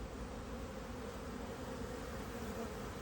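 Honey bees swarm around backyard beehives on a sunny 20-degree day, a steady dense buzzing drone holding at an even level throughout with no talking.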